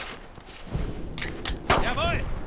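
Gunfire in the video game Brothers in Arms: Road to Hill 30: several sharp shots and thuds in quick succession, loud and close, amid the din of battle, with voices shouting over them.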